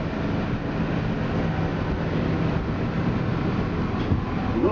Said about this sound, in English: that train's gotta wait too